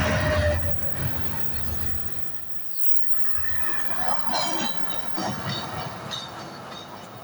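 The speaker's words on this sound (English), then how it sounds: "That was a short train." A short train rolls through Lancaster railway station, its wheels rumbling and clacking with high squeals from the rails, close and loud, easing briefly before surging again.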